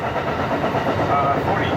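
A Shore Line East passenger train rumbles steadily while running, a loud close continuous drone of engine and wheel noise with people talking over it.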